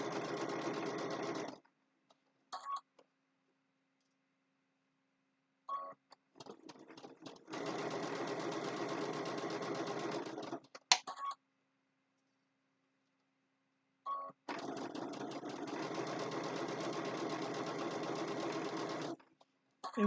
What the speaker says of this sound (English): So once I stitch a little bit, I can go ahead and take that clip out.